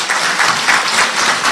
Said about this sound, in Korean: 저는 스스로한테 박수 쳐줘도 된다고 보고